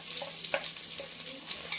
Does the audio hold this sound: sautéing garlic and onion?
yes